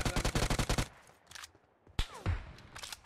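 Rapid automatic gunfire in BGMI (Battlegrounds Mobile India), a tight burst of loud shots, then a quiet gap before more sharp shots with echoing tails near the end.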